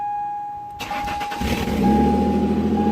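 A Ford Contour engine cranks briefly, then catches and roars to life, settling into a steady, loud running rumble close by, with an exhaust leak.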